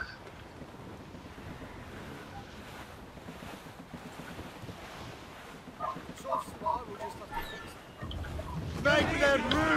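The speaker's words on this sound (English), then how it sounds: "I don't like that wind, sir." Wind howls steadily over open sea in Assassin's Creed Rogue, a broad gusty roar with waves beneath, joined later by shouted voices and a louder surge near the end.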